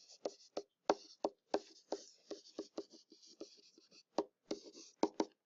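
Pen strokes scratching out an equation by hand on paper, a close, dry run of short taps and scrapes in an uneven rhythm with brief pauses, no talking.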